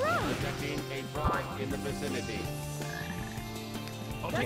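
A frog croaks in the Sonic Heroes video game amid a busy, dense game soundtrack, with wobbling tonal croaks layered under music and effects, steady and loud throughout.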